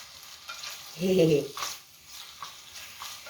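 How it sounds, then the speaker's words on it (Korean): Quiet sizzling and stirring of onion and garlic frying in a pan, with a short louder clatter near the start and soft noise behind. "양파하고 마늘 넣고 볶아주세요."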